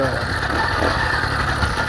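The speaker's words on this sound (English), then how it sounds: "it's idling low, so I'm gonna have to tune it up a little" A motorized bicycle engine idles low and steady, a continuous close mechanical hum and rattle with no spoken words over it.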